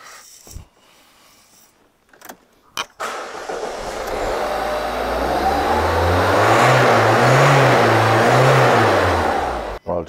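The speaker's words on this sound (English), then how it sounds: "I'm just going to start the car up to get any air out of the fuel lines." A car engine cranks briefly and fires up, then runs with a rising, steady drone that swells and settles close by, ending with a short clunk.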